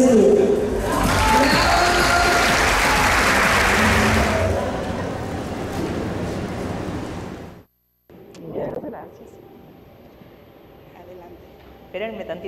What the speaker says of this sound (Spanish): Les voy a pedir que ayuden a recibir con un fuerte aplauso a nuestra líder plata